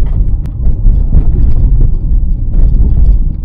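Renault Twingo electric car driving over a potholed road, a steady low rumble of tyres and suspension with dull thumps, close and continuous, with no engine note.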